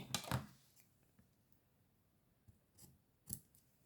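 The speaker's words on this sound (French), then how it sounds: "Alors, on va le couper." Scissors snip through paper for a scrapbooking card, a few sharp, close cuts with short pauses between them, heard alone without talk.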